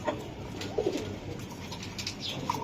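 A racer pigeon, a 2025 club hen, gives a few soft, low coos close by against a quiet background hiss.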